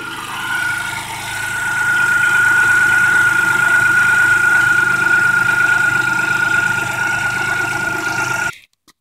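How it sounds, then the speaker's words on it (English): A 1994 Geo Metro three-cylinder engine with a standard transmission idles while warming up, with belts spinning. It makes a loud, steady, close hum with a thin whine, swells at the start and cuts off abruptly at the end. "Here's the engine of my Geometro 1994 Geometro 3-cylinder standard."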